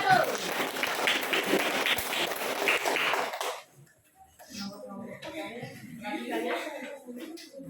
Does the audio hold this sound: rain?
no